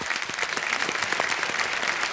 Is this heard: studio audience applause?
yes